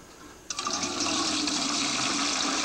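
Fermented corn mash beer for moonshine being poured and strained outdoors, a sudden rush of liquid that starts abruptly and keeps splashing loudly and steadily.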